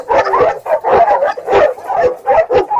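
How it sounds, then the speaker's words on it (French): A pack of dogs, a blue Cane Corso among them, barks in rapid, loud bursts close by, an agitated string of deep yaps with a whimpering edge, with no talk over it. "Les chiens sont devenus fous."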